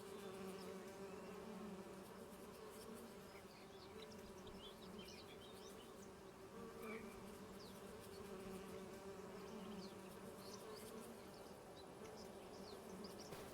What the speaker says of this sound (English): listen to the bees buzz